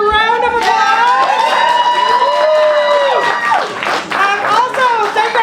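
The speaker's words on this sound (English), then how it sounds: "I want to everybody give Ben and Billy another round of applause." Audience in a cooking studio applauds and cheers for two chefs, a loud burst of clapping mixed with shouts and voices, steady throughout with talk woven in.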